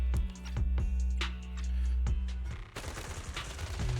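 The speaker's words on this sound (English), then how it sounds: "Gunfire erupts like a relentless downpour" Gunfire in the video game Zenless Zone Zero, a run of sharp repeated shots over a low droning bed, spaced irregularly and then thickening into denser rattling bursts.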